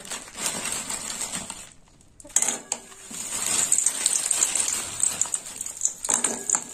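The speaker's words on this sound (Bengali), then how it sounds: "প্রথমে বড়িগুলো ভেজে নেব।" Prawn bori fried in oil in a wok give a bright, continuous sizzle, broken by a short near-silent pause, then metallic clinks and scraping as the pieces are stirred, resuming loudly.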